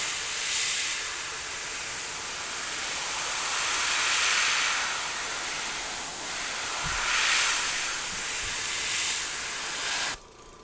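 Airbrush spraying Alpha Air paint in a light coat into corners, giving a continuous loud airy hiss that swells and eases slightly for about ten seconds, then cuts off abruptly.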